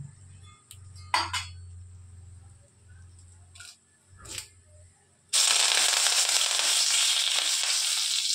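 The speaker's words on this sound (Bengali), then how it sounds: "কারি পাতা প্রচুর ফাটে, বুঝতেই পারছো কারি পাতা প্রচুর ফাটছে।" Curry leaves hit hot oil with mustard seeds and dried chillies for tempering sambar, erupting into a sudden loud, steady crackling sizzle after several scattered clinks and thumps of utensils.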